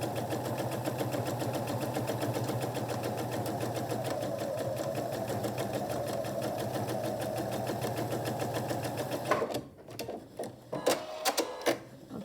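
Sewing machine with a 1/4 inch presser foot stitching a quilt block, running steadily and up close for about nine seconds before stopping, followed by a few short clicks and handling sounds.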